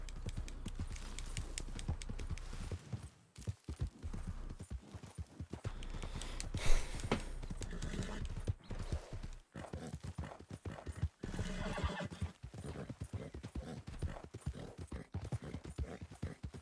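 Horse hooves clip-clop steadily through a Red Dead Redemption 2 game scene, with a neigh rising in the middle, the riding sounds loud and continuous throughout.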